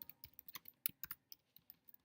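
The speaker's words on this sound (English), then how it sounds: "you just click in the box and you can start typing" Keys clatter on a computer keyboard in quick, irregular taps, each click crisp and close in an otherwise quiet room.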